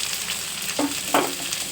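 Ginger, garlic, green chilli, curry leaves and onion frying in coconut oil in a pan for Kerala-style liver fry, a steady sizzle with a couple of brief stirring scrapes, close and moderately loud, no talking.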